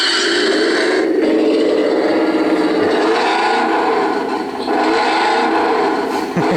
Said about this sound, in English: if you turn it on, the engine fires up